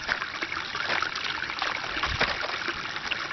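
Water runs from a tap in an off-grid RV while dishes are washed with homemade lye soap, a steady close trickle and splash with small clinks, no talking.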